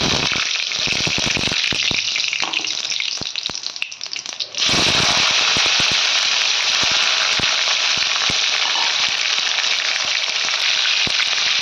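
Tomatoes dropped into hot oil already holding whole garam masala, bay leaves and cumin seeds set off a loud, steady sizzle that carries on through the clip after a brief dip partway in.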